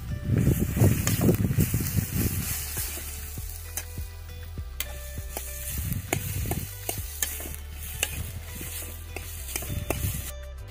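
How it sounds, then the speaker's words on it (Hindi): Radishes cook in ghee in a wok (kadhai) over a low wood fire in an Uttarakhand village kitchen, giving a steady soft sizzle and frying crackle with occasional stirring scrapes and clinks, fairly close, no talk. "आग की आंच को अब हमने थोड़ा धीमा कर दिया है और इन मूलियों को पकने के लिए छोड़ दिया है।"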